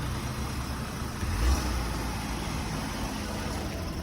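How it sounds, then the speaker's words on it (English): A stolen and recovered vehicle offered at a city auction, its engine running steadily after a jump start, with a low idle rumble and a brief louder swell near the middle. "Started right up with a jump box."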